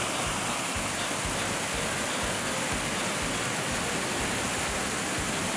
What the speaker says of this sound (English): listening to that water flowing over those limestone ledges and splashing into the pools below